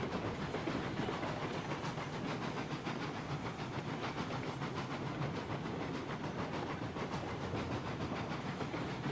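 A steam locomotive in the train simulation game Railroads Online chuffs steadily with a loud, rapid exhaust beat over hissing steam and rolling noise, continuous and close.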